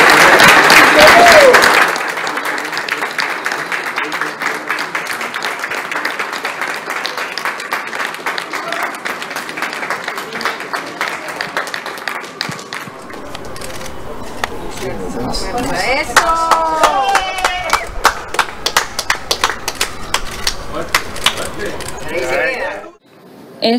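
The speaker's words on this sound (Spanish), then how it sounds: "Un fuerte aplauso, por favor." Audience applause at a Peruvian university news event honoring a gold medalist in the 200 metres, a loud burst of clapping up front that thins into scattered claps under ongoing talk and background noise.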